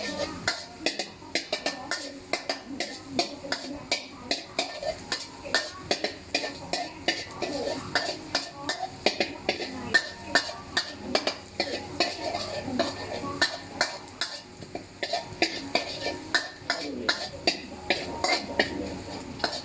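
Garlic fries in a pan until golden for a rad na pork noodle dish, a soft sizzle beneath repeated rhythmic scrapes and clinks of a utensil stirring against the metal, close and fairly quiet.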